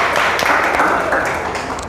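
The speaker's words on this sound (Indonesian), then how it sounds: "beri tepuk tangan untuk kita semua" A class of students applauds during an Islamic religious education lesson, a dense, steady wash of many hands clapping at once that fades slightly toward the end, with voices mixed in.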